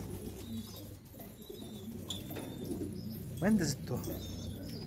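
A pigeon coos softly nearby in a short, low, rolling call, with someone speaking in the background and faint chirps and ambient noise around it.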